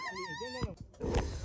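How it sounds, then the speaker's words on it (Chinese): A puppy yelps and whimpers briefly when pricked by its owner, a short close cry followed by rustling noise. "现在再看看这一窝，就像这一条，主人扎它，它都会叫的"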